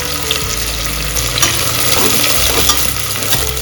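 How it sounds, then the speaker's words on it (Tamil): Onions caramelizing in a pan for Dindigul-style chicken biryani, a steady loud sizzle with scraping stir strokes throughout, no voices. "வெங்காயம் வந்து நல்லா கேரமலைஸ் பண்ணிடலாம்"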